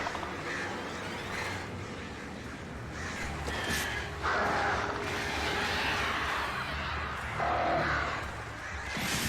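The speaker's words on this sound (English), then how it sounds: "Oh god, not the birds!" Flock of crows attacking in the Alan Wake horror game, repeated harsh caws and flapping over a dense, noisy game soundscape, fairly loud and close.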